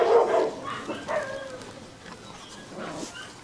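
A Bac Ha bobtail dog barks in a couple of short bursts near the start, then quieter yips and whimpers follow at moderate distance with no talking.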